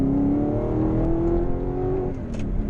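An Audi R8 sports car exhaust drones and revs with a deep, steady engine tone, loud and close, easing off toward the end.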